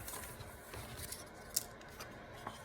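Scissors snip through washi tape while making scrappy pads, a quiet cut that stays faint with a short sharper click partway through, no talking.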